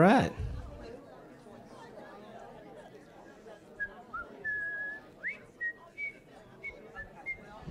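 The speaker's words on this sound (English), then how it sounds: "They can hear me whistling on the World Wide Web." A person whistles a string of short, bright notes over a faint background of crowd chatter.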